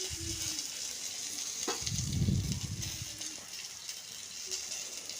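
Torn dried red chillies and curry leaves sautéed in hot oil for chutney, a continuous moderate sizzle with a few faint stirring knocks.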